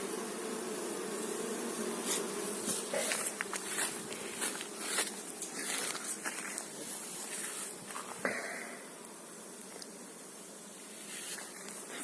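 Honey bees buzz in a dense, steady drone around sun-heated hives at an apiary on a hot day, with individual bees passing close by now and then over the continuous hum.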